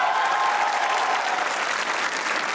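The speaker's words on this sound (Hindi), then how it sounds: "जिसको मेरा गधा ज्यादा गधा लग रहा है वो तालियां बजाएं" A studio audience applauds steadily at a Pakistani comedy talk show, the clapping dense and sustained for the whole stretch with no talking over it.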